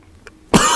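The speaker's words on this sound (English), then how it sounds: "I'll be coughing a bit tonight" A single sharp, loud cough bursts out close by after a brief quiet moment, from someone speaking at a town meeting.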